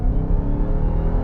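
A 2020 Dodge Charger Hellcat accelerates hard from about 22 mph with a deep, loud, continuous exhaust roar heard from inside the car, no talking over it.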